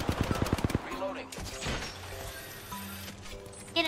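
Rapid bursts of automatic gunfire from the Apex Legends video game crack out close and loud at the start, followed by scattered mechanical clicks and sporadic shots over a low game soundscape.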